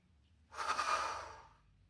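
Heavy, drawn-out breath during a plank exercise in a calm full-body strength workout, one long exhale that swells and fades over about a second, fairly close and alone with no talk.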